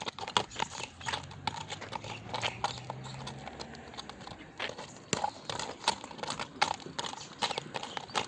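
A Karabair horse at a livestock market clip-clops on hard ground, steady close hoofbeats with a low murmur of people in the background.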